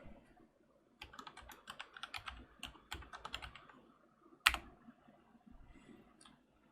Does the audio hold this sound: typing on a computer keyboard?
yes